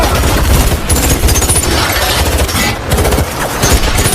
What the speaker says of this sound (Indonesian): suara tembakan terdengar di mana-mana